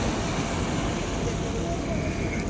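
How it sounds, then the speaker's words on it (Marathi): Sea waves at high tide wash against the shore at Chaitya Bhoomi in Dadar, Mumbai, a steady, loud broadband roar with wind noise on the microphone and faint voices nearby. "भरती आली आहे समुद्राला"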